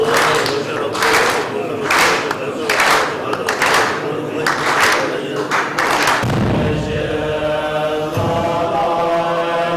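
Hands clapping during a monastic lama dance ritual in a Sikkim monastery, a series of sharp, loud claps in an uneven rhythm, then a sustained droning chant or horn takes over.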